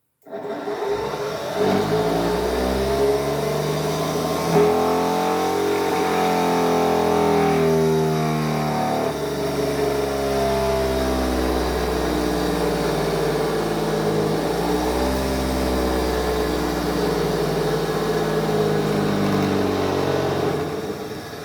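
An electric motor hums steadily and loudly, its pitch shifting slightly as it runs continuously throughout.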